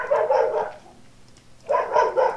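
A dog barks, two short bursts separated by a quiet pause, fairly close but not loud.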